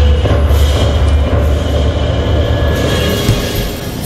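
A train in the Roblox game Escape Nightmare Huggy Wuggy gives a loud, continuous low rumble that fades a little at the end.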